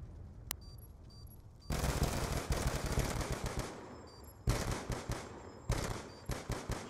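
Spraying gunfire in a competitive 6v6 video game match: loud bursts of rapid automatic fire that start abruptly, with short pauses and sharp single shots near the end.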